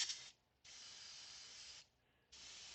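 Airbrush spraying paint onto a miniature raven in two long, steady hissing bursts with a short pause between them, close and fairly loud, no voices.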